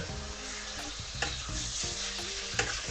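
Chicken breast sizzling in a hot pan as it is quickly stir-fried for a pasta dish. A steady, dense frying crackle runs throughout, with a few brief louder stirring clatters and no voices.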